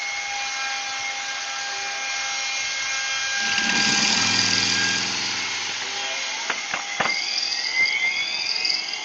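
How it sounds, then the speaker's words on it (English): A steady mechanical drone with a whining high whirr swells near the middle, with several sharp knocks toward the end; no talking. "Sounds like a helicopter running up back"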